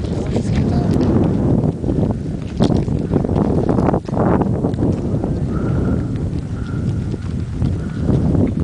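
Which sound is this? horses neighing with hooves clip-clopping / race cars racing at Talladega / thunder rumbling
horses neighing with hooves clip-clopping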